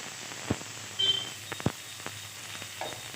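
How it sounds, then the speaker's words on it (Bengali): Chopped tomato hits hot oil with tempered spices for a vegetarian gram-flour dish, giving faint, scattered sizzles, crackles and a few sharp pops against a quiet background, with no speech. "এখন কেটে রাখা টমেটো আমি দিয়ে দেব"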